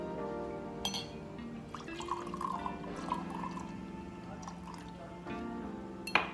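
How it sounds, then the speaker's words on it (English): Tamari soy sauce poured into a glass bowl for a sweet and sour salmon sauce, a soft liquid trickle and drip with light glassy clinks over a steady background hum. "So first I add the tamari soya sauce."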